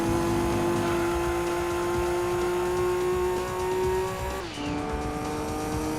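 Race car engine from the Gran Turismo 2 video game, a steady high-pitched drone held through a chicane, the pitch dropping sharply near the end as the car brakes and then climbing again.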